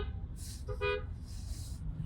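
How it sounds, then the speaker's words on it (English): Car horns honk in New York City traffic, heard as a brief horn toot partway through amid steady road and engine rumble inside a car. "Some honking going on to the left of me"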